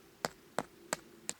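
Four evenly spaced sharp taps ring out, a metal hammer striking a hot tent stake into the ground, fairly faint with quiet gaps between blows.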